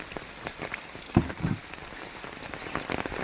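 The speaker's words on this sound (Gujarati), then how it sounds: "અને આમ જો વરસાદ આમ તો જો પડે" Hail and rain patter steadily on a surface, with scattered heavier drops tapping nearby and no voices.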